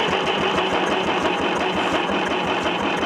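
A diesel engine on an International tractor with water in the cylinders cranks over in a fast, even, chugging rhythm as it tries to start, loud and close, with no voices.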